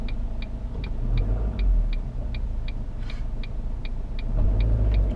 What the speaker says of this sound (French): Par contre, le moteur est assez bruyant.